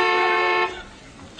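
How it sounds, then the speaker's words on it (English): A car horn gives one steady, loud honk lasting just over half a second, then fades to quiet before a brief faint sound at the end. "Honk again here."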